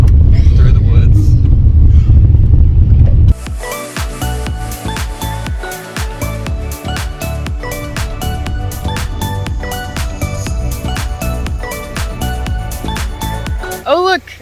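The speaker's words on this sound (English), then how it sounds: "1 hour of driving on these gravel roads over the rivers and through the woods" A car rolls along gravel roads through Costa Rican woods and river crossings, a loud, close engine rumble at first, then a steady underlying drone beneath people chatting inside.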